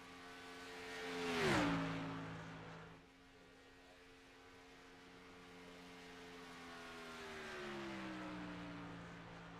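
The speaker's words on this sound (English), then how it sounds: "pushing all that Toyota TRD V8 has under the hood" A Toyota TRD V8 race car at Daytona International Speedway roars past close by, its engine note rising to a loud peak and then dropping in pitch as it passes, before a steady high-revving drone builds again.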